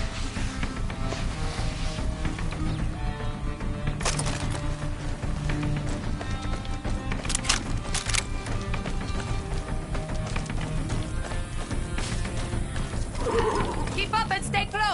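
Horse neighing in the Far Cry video game, heard amid dense game audio with music, hoofbeats and voices; whinnies rise briefly over a continuous busy mix.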